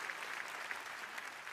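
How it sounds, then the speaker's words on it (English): Audience applause in a large hall at the Google I/O 2024 keynote, a steady continuous wash of many hands clapping, moderately distant and even in level, with no talk over it. "the applause stops him"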